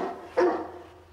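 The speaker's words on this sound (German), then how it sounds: "Was für ein Hund." A single short bark from a friendly house dog in a home, one close, fairly loud burst that fades quickly into quiet room tone.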